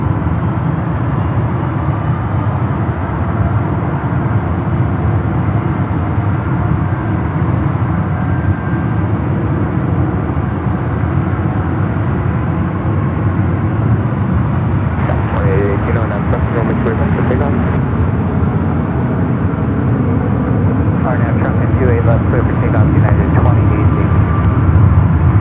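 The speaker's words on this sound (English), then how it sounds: "American A321 up next for arrival." An American Airlines Airbus A321 jet comes in to land at San Francisco airport, a steady broad engine roar throughout with a faint whine, and brief crackling bursts partway through.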